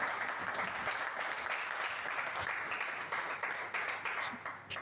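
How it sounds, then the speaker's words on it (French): Applause from a church congregation at a testimony breakfast event, a steady wash of many hands clapping throughout, moderately distant, with a few individual claps standing out near the end. "Est-ce qu'on peut applaudir le Seigneur que ça dit?"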